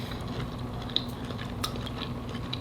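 Someone bites and chews crunchy homemade fried coconut shrimp, giving a few crisp crackles and crunches over a low steady background hum, and no talking is heard.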